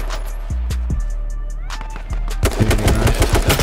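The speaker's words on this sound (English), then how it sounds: "I'm shooting him right now." Video game gunfire during a competitive scrim match, sounding as a few sharp shots spaced apart, then a denser rattling burst of rapid fire near the end, loud and close.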